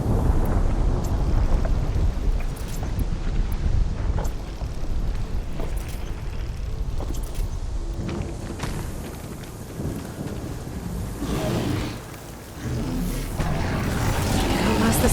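A storm rages in Horizon Forbidden West, with continuous roaring wind and rumbling gusts filling the scene, swelling and dipping over time, while a voice speaks at moments.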